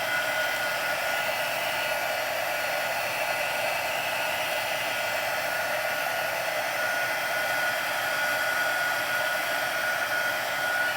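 Heat embossing tool blowing hot air steadily to melt embossing powder for foiling, a constant loud whirring hiss with a faint high whine, continuous for the whole stretch with no talk.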